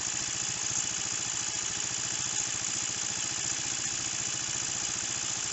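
A Roketa 150cc engine idles steadily with its throttle opened, giving a continuous close-up, rapid low putter with a throbbing pulse and no talking over it.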